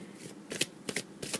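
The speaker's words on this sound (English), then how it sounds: "I think my deck is shuffled." Quiet riffling of playing cards being shuffled, three or four quick soft bursts close by with short gaps between them.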